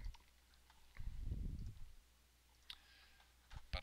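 A few sparse mouse clicks tick quietly, close by, alongside a brief low rustle; otherwise near silence.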